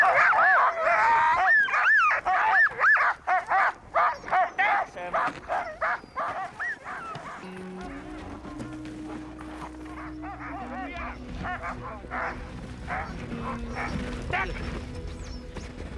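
Sled dogs bark and yelp in quick, loud bursts that taper into whimpers, followed by a stretch of low mechanical rumble with fainter yips coming through.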